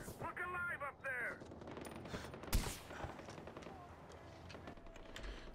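Gunfire crackles through a firefight in the video game Far Cry 4, with rapid automatic bursts and scattered shots. A voice shouts briefly at the start, then a louder blast follows before the shooting fades into a steady background rattle.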